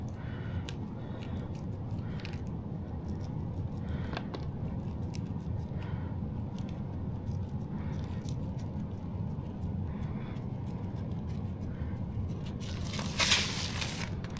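Tint film is peeled and rolled up on the windshield of a Ram truck, making soft crinkling, crackling and scraping noises. A brief louder rustle comes near the end.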